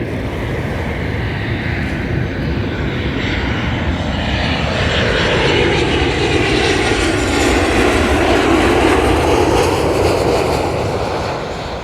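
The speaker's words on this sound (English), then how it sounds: "Another one coming in. We're going to get a little bit of a closer view this time because we're a little bit close to the landing" A large passenger airliner roars in low over Mai Khao Beach in Phuket on its landing approach, a loud, steady, continuous jet rumble that swells slightly as it passes close overhead.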